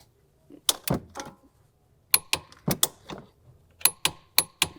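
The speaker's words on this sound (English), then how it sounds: "set our torque wrench to 80 Newton meters" Torque wrench set to 80 newton meters tightening a tie rod on a Porsche Cayman: three close groups of sharp metallic clicks and ratchet snaps, separated by short pauses, with no voices.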